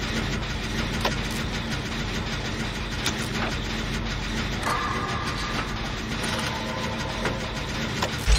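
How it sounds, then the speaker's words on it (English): An old tractor in Dead by Daylight idles with a loud, steady low rumble and chug, joined by occasional clanks and faint game sounds, running continuously with no talk. "An old tractor."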